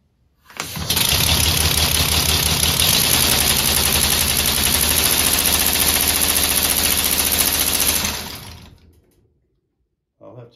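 An air-powered car engine runs on compressed air at 150 PSI. It starts abruptly, keeps a loud, steady, rapid chuffing and knocking for about seven seconds, then winds down and stops.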